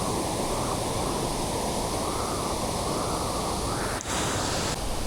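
Tagbibinta Falls, a mountain waterfall in Maragusan, Davao de Oro, roars as a steady, broad rush of falling water heard up close, unchanging throughout with a short knock near the end.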